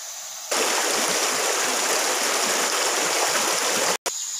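Continuous rushing flow of a jungle river in the lower reaches of the upper Mahakam, a dense, close broadband wash that starts abruptly and holds steady, with a momentary dropout near the end.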